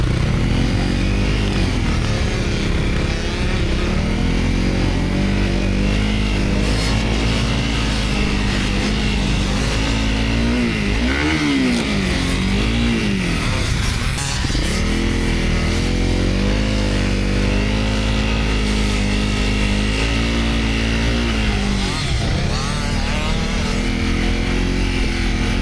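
Honda CRF250L/CRF300L dual sport motorcycle engine revving hard and steadily through deep sand on an enduro course, close and loud throughout, with rising and falling pitch as the rider works the throttle.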